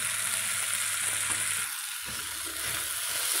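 Vegetables for a sweet corn dish fry in a pan with a continuous bright sizzle, steady and close, with a brief softening midway as the food is shifted.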